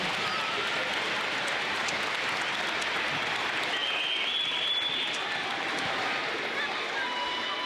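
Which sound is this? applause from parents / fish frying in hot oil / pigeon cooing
applause from parents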